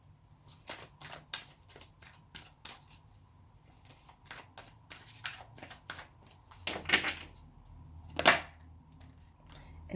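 A tarot card drawn from the deck with a series of quick papery snaps and shuffles, a couple of sharper crisp flicks standing out near the end, close and fairly quiet with no talking.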